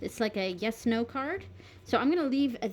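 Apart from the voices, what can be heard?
No distinct noise like a dog, phone or traffic.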